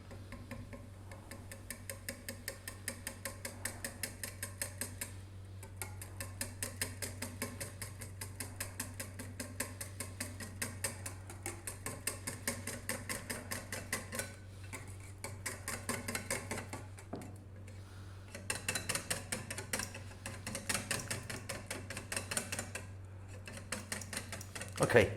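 Steady, rapid ticking of a whisk against a bowl as flour is beaten into fried chicken batter, a close, even rhythm running for about twenty-five seconds over a low constant hum, briefly pausing before resuming.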